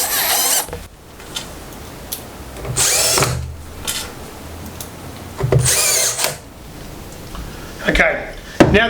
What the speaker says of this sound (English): Finally, we just need to fit the final 4 screws.